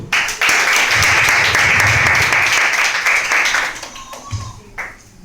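A church congregation bursts into loud, dense applause that holds steady for about four seconds and then thins out into scattered claps as it fades.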